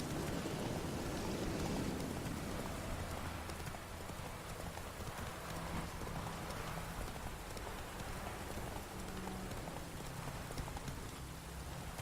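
Steady rain falls across the open world of The Witcher 3: Wild Hunt as a horse clip-clops along beneath it, a constant wash of drops with hoofbeats running through the whole stretch.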